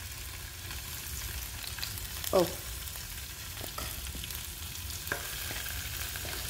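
Steady frying sizzle of tofu in oil in a pan, with a few utensil stirs and clicks, a brief voice sound in the middle.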